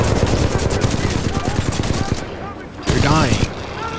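Titanfall 2 gunfire: dense rapid automatic shots rattling close and loud for about two seconds, then another short burst, with voices talking over the shooting.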